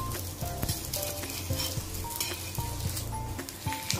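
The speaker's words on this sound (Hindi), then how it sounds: "तो थोड़ा सा घी डाल देंगे किनारे से, और कुलचे को हम पलट देंगे।" An aloo kulcha sizzles steadily in ghee on a tawa over medium heat. The crackle is close and continuous, with faint stirring or scraping knocks throughout.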